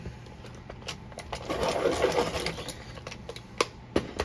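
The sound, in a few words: pencil being sharpened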